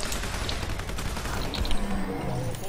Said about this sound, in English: My no recoil Tommy gun is making this a lot better than it usually would be.